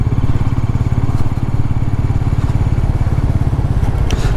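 A Royal Enfield Meteor 350 single-cylinder motorcycle engine runs steadily while riding, giving a continuous low, even throb with a faint rhythmic pulse and steady road noise, no talking.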